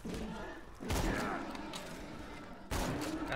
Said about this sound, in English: I just keep shooting him after you've already killed him